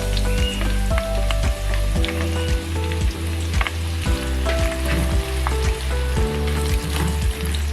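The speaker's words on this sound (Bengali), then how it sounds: "যে তেলটার মধ্যে কোফতাটা ভেজেছি আমি সেটাই নিয়ে নিয়েছি, সেটা থেকে একটু আর কি নিলাম। এখন আমি পেঁয়াজটা দিয়ে দিচ্ছি।" Onions frying in oil left over from frying chicken kofta for biryani give a dense, close sizzle with regular scraping stir strokes and a steady low hum underneath, without speech.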